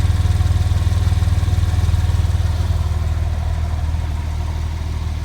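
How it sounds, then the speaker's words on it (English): A 2013 Porsche 911 Carrera 4S idles with a deep, steady exhaust burble, loud and close, its rapid low pulsing holding even throughout. "And you can just hear the pitch of the exhaust here."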